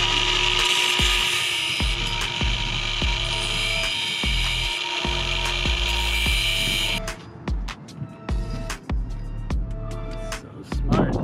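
Power tool cutting around a taper on a sailboat, a loud continuous mechanical whine for about seven seconds, then stopping into sharp clicks and knocks of tool handling.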